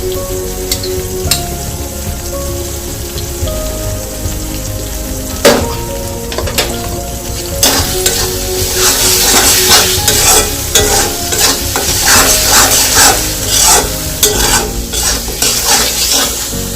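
Spicy Singapore-style prawns sizzle loudly in a pan while a spatula scrapes and stirs them in repeated quick strokes, the frying growing busier and crackling more in the second half.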